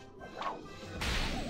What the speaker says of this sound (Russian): Но получи тогда кнутом